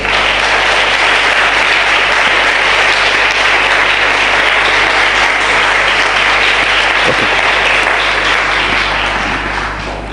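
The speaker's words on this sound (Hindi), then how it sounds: "आइए मैं चाहता हूँ हम सब भाई गौतम के लिए ताली बजाएं।" A congregation gives a long burst of applause for worship singer Gautam, loud, close and unbroken for about ten seconds, tapering slightly at the very end.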